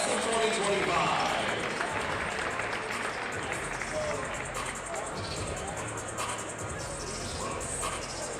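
A crowd at a Chapman men's basketball game applauds the graduating seniors, with sustained, even clapping and cheering filling the gym alongside crowd babble and speech throughout.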